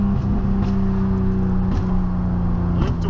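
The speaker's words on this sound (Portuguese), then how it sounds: "Escape pipocando" A Chevrolet Omega CD 4.1 with straight-through exhaust idles loudly and close, its steady drone broken by a few sharp pops and burbles from the pipe.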